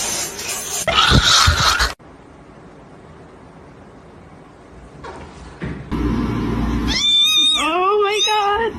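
Cats fight and caterwaul, with scuffling bursts and then loud, wavering yowls and drawn-out meows close by, broken by a quieter lull in the middle.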